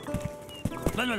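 Horse hooves clip-clop and a short whinny in a video game, brief and close, mixed with game sounds and someone talking over part of it.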